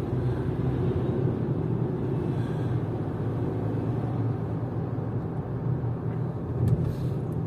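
A Geely Atlas Pro SUV being driven on roads near the airport in Sochi, heard from inside as a steady low engine and road rumble that runs throughout without talk.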